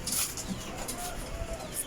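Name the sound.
chickens clucking in backyard pen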